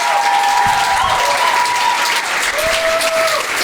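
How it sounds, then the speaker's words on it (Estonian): Loud, dense audience applause for comedians at a stand-up comedy show fills the whole stretch, steady and close, with a faint whistle or tone drifting above the clapping. "Üks aplaus kõigile koomikutele veel,"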